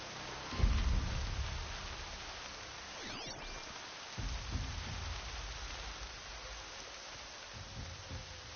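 Steady rain hisses throughout a stormy scene in the video game Horizon Zero Dawn, with low rumbling thunder rolling in near the start and again midway beneath the constant downpour.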